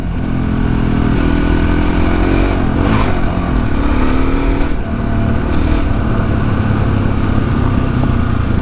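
A Husqvarna SMS630 supermoto motorcycle with its rear wheel spinning, a loud close continuous engine drone with steady revving and slight rises in pitch.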